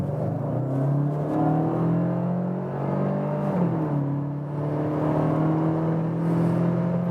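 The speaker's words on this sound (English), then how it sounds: "now let's accelerate it out together with this GTE boost" A VW Passat GTE plug-in hybrid pulling hard at high motorway speed, a loud, steady engine drone whose pitch climbs, dips briefly at a shift, then rises again, mixed with cabin road and wind noise.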